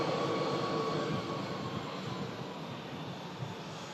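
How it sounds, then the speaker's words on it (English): A Qatar airliner being pushed back from Pier 1 at Terminal 2 of an airport gives a steady, broadband engine roar. The roar is loud at first and eases slightly but holds steady throughout, with no talking. "Qatar is now pushed back from the Pier 1 at T2."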